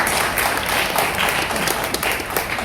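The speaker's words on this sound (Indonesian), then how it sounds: "tepuk tangan untuk Pak" An audience at a memorial tribute gathering claps together in a dense, continuous burst of applause, close and fairly loud, with no speech over it.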